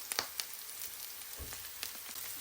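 Chillies, garlic and curry leaves sautéing in a pan, a faint, steady sizzle with a few sharp pops and crackles near the start and more scattered ticks later, with no talking.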